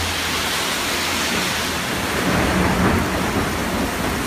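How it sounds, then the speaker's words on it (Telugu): Heavy rain pouring in an evening thunderstorm in Nazareth, a thick, unbroken roar of downpour with a deep thunder rumble swelling midway, close and loud. "వర్షం కురుస్తుంది."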